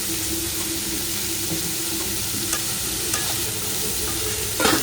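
Onions with salt stir in a hot pan for a boiled egg and dry prawn curry, producing a dense, even, loud sizzle with a few faint spoon clicks and a brief louder scrape at the end.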